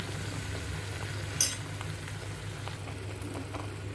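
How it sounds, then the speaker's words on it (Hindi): Tomato masala with salt, red chili and asafoetida frying in oil in a pan, a soft steady sizzle with faint bubbling crackle and one brief louder clatter of a stirring spoon. "अब इसको अच्छे से भूनने देंगे तब तक जब तक कि ऑयल सेपरेट नहीं हो जाता"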